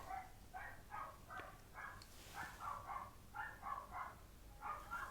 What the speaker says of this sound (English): Oh, that blooming dog.